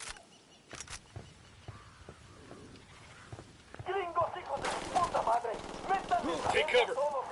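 Bursts of gunfire ring out in the video game Ghost Recon Wildlands, a few scattered shots followed by denser rapid firing, with a voice talking over it.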